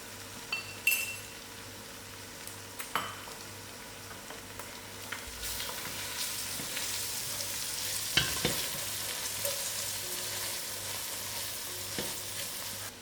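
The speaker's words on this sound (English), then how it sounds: "I'll put in my ground spice together with my mixed masalas" Ground spices and mixed masalas sizzle in a pan for green jackfruit curry. Early clinks and taps of a utensil against glass and metal give way to a rising, steady hiss of frying with occasional stirring scrapes, close and fairly quiet.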